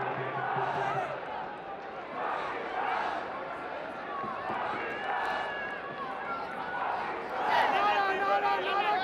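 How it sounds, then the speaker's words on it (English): A boisterous cricket stadium crowd at a Lahore Qalandars vs Islamabad United PSL match keeps up a constant roar of cheering and chatter, with a commentator talking over it. "Very boisterous crowd."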